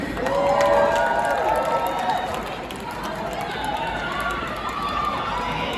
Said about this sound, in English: We get a little cheer for Peaches and Scream.